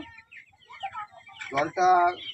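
Chickens cluck in a burst of harmonic calls near the end, following quieter scattered bird noises and faint background murmur.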